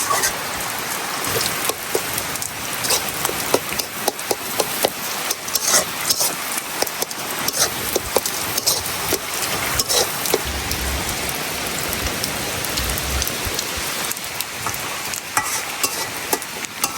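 Steady rain drums on the surfaces around an outdoor village cooking fire while greens are stirred in a pot, a loud, dense patter with scraping stirs mixed in throughout.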